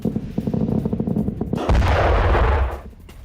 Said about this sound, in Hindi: बहरीन में कम से कम 4 धमाके सुने गए